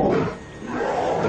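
A reconstructed roar of a marsupial lion, the Ice Age Australian carnivore, heard as a deep, rough, sustained growling roar up close, dipping briefly in the middle before swelling again.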